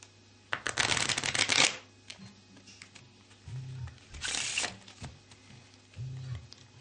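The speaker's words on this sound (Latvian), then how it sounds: "un uztaisat Riffle Shuffle" A small stack of playing cards gets riffle shuffled, with two rapid fluttering bursts of card riffles about three seconds apart, separated and followed by soft handling, bridging and squaring sounds, close up and with no talk.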